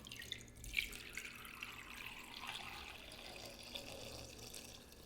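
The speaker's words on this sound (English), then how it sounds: "I'm going to cover these with the household vinegar." Household vinegar pours over eggs in a container, a faint steady trickle of liquid with a few small splashes and drips near the start, quiet and close.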